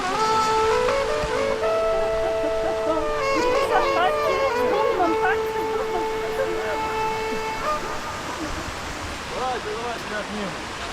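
A waterfall on the Cheremosh river in the Carpathians, reached while rafting, roars as a loud, continuous broadband rush of water, with a sustained whistle-like tone and voices over the first several seconds.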